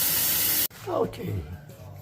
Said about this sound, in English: I sprayed it with a little crud cutter or any cleaner you might have, Lysol or disinfectant